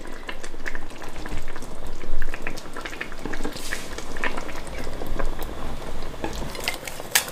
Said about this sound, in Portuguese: Vou colocar o nosso peixe aqui nesse molinho.